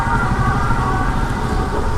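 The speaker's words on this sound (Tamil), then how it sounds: "போலீஸ்காரா ஆம்புலன்ஸான்னு தெரில." A police or ambulance siren sounds on a street, heard from a delivery rider's position as a steady, loud wail over continuous road and traffic rumble, with no talking.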